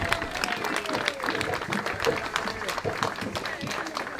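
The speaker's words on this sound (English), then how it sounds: "give him a round of applause" A gathered crowd at a plaque-unveiling ceremony gives a round of applause, steady mid-distance clapping with some voices murmuring underneath throughout.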